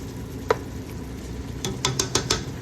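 Seasonings, including paprika, fry quietly in a little palm oil in a pot. A soft steady sizzle runs throughout, with a few sharp clinks of a utensil against the pot near the end.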